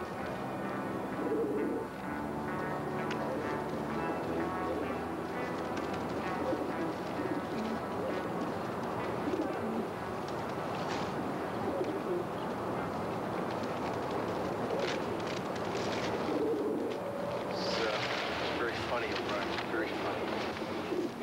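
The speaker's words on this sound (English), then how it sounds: "Feed the pigeons." Pigeons coo in a city setting where they are being fed, a soft ongoing murmur set against steady street ambience and faint voices throughout.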